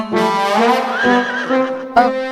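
A horse whinnies loudly and close by, a long strained neigh with wavering pitch followed by a short sharp snort-like burst at the end, with no talk over it.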